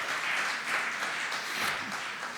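A church congregation claps together in a sustained wash of applause, dense and even, with slight swells in intensity.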